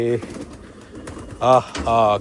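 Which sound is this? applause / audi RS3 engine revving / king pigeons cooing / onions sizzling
king pigeons cooing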